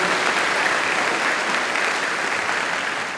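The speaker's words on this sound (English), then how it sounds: "let's give one more round of applause." Loud, sustained applause from a large crowd at a school staff pep assembly, steady clapping filling the room without pause.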